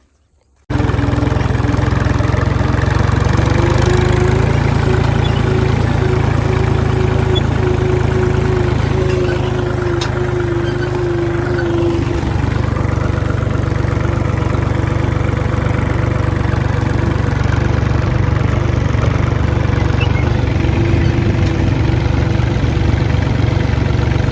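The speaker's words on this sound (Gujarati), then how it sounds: "પ્રિયા ચાલુ કરીને ટ્રેક્ટર ચાલુ" A tractor engine starts up and runs steadily at close range, a loud continuous diesel rumble with a droning hum that holds throughout.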